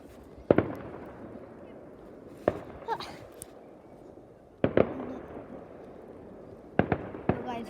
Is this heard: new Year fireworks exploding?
yes